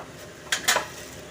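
A spoon clatters against a cooking pan while spices such as pepper powder, salt and garam masala are stirred in, two brief metallic scraping clinks in quick succession, close and fairly loud over a quiet background.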